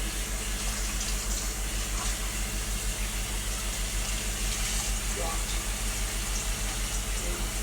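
Tap water running into a kitchen sink while vegetables such as cabbage are washed: a steady, full gushing stream throughout, close and continuous, with a faint voice beneath.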